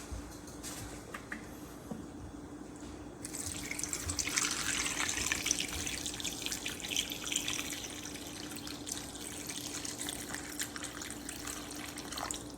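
Water running steadily from a kitchen tap while hands are washed, a faint continuous splashing with no talking.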